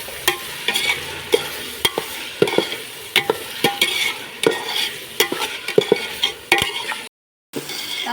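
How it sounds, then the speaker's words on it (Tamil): Tomatoes fry in a pan as salt goes in, with a steady sizzle under repeated close scraping and clacking strokes of a spoon stirring them, and no talking. "தக்காளி வதங்குறதுக்காக நாம இப்போ உப்பு போட்டுக்கலாம்."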